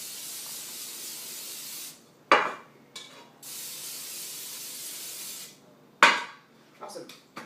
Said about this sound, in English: we're going to grease our pans first with some Pam